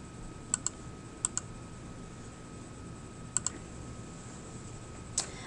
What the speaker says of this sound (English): I'm clicking on all these so you can see them.